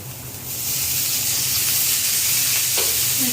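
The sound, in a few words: chopped onion frying in oil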